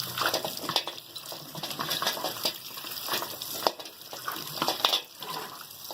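Beef paya meat washed in a strainer under a running tap, a steady gush of water with irregular splashes and knocks of pieces shifting, close by and continuous, with no talking.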